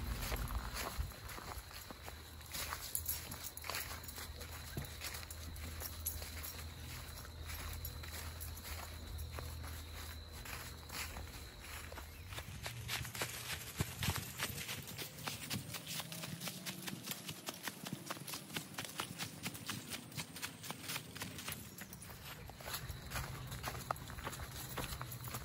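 Footsteps tread steadily along a wooded hiking trail in a Connecticut preserve, crunching through dry leaves in a continuous walking rhythm over a constant outdoor background hiss.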